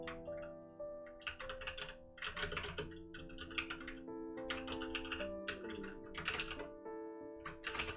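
Rapid typing on a mechanical keyboard, with bursts of clicky keystrokes close to the microphone, paused briefly between runs, while music plays underneath.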